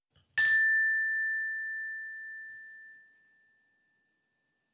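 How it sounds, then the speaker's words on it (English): A single clear bell ding signals a page turn, striking sharply and ringing out in a pure sustained tone that fades over about two and a half seconds in otherwise quiet surroundings. "Turn the page when you hear the bell ring."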